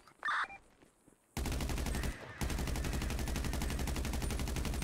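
Rapid AR rifle fire, starting after a short quiet stretch with a brief sound at the start, then continuing as loud sustained automatic shots with a brief break partway.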